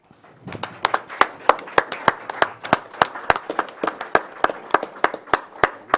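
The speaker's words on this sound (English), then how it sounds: "Now we clap." Attendees at a county Board of Supervisors meeting clap after a proclamation for Osteogenesis Imperfecta Awareness Week, sharp close claps in a loose rhythm over a thinner spread of applause, building then holding steady.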